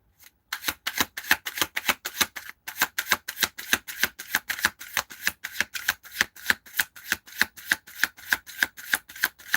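A deck of tarot cards being riffle-shuffled close up, giving rapid crisp rhythmic flutters in steady repeated bursts, clear and without talk.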